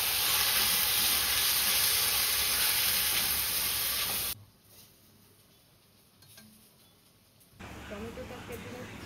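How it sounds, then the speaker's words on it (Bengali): Rice is stirred and mixed in a hot pan, giving a loud steady sizzle and hiss that suddenly drops away to quiet scraping and stirring, then partly returns. "এবার একটু ভালো করে নাড়িয়ে নেব"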